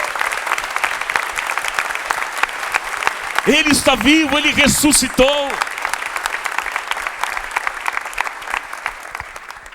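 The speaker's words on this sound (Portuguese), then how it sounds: "Você pode aplaudir mais forte?" Congregation applauding loudly during a church Easter service, continuous dense clapping throughout while a preacher speaks and cries out over it.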